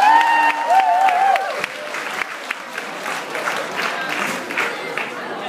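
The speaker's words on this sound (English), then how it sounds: "So give a round of applause for Clara, who is trying to play with 3 stri" An audience claps at a school music and poetry event. The applause is steady and mid-level and continues throughout, with a sustained instrument tone heard faintly at the start.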